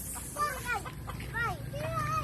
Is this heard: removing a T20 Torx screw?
no